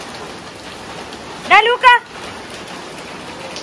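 Steady rain pours down outdoors in an even hiss throughout, while a voice briefly calls out midway over the downpour.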